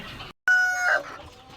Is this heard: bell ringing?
no